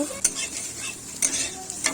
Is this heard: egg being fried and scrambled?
yes